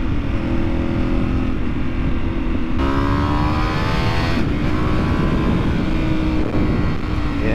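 A 2013 Ducati 848 EVO sport bike on the road, its engine droning loudly and steadily with shifting rev pitch and heavy wind rush, close and continuous.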